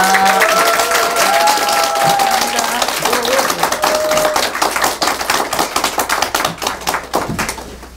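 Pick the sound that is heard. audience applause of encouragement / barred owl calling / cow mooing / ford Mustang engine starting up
audience applause of encouragement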